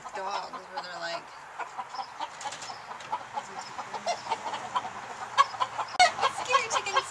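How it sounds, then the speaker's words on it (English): Chickens cluck and squawk in scattered bursts close by, with people talking quietly in the background. "Crazy chickens"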